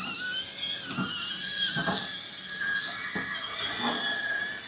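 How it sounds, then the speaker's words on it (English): A powered grill brush spinning at high speed against years of built-up grease and carbon on a grill, a steady whining, squealing scrub close up with a few brief heavier scraping surges. "Oh yeah, it's cutting right through that grease and fat."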